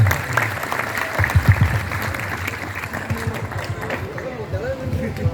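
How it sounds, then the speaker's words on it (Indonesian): Students at a high school Maulid Nabi gathering in Jakarta clap together, a dense burst of fairly loud applause with rhythmic hand claps, mixed with crowd noise and voices. "Ayo tepuk tangan dulu buat Muhammad Fahri Al-Fatih."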